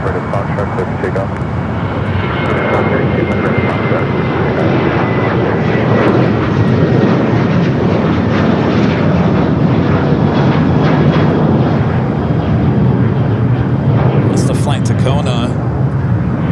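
An airliner, a Boeing 737-800, takes off at LAX, with a loud, continuous engine roar held close for the whole stretch and a brief scrape of handling noise near the end.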